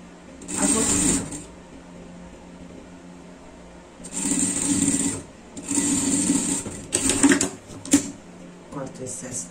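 A sewing machine stitching ribbing onto a dog tracksuit runs in several short bursts of rapid whirring, close and fairly loud, with pauses between runs, while someone talks over and between the stitching.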